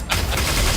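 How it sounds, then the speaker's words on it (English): A sudden explosion goes off in the background of a Power Rangers–style scene, breaking from near quiet into a loud, dense roar that holds steady and rumbling for most of a second. "Random explosion."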